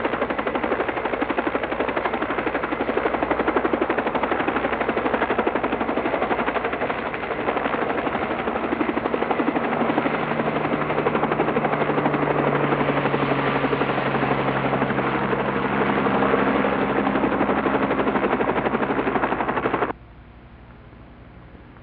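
A helicopter flies steadily, its rotor chopping and engine droning loud and close for about twenty seconds, then cutting off abruptly into quiet, in a helicopter operation over the Ganges gharial habitat.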